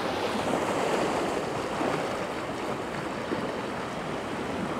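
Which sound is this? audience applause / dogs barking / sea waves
sea waves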